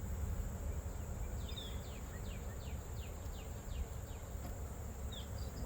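Honeybees hum faintly and steadily around an opened hive in a garden apiary, with a few individual bees buzzing past close to the microphone against a quiet outdoor background.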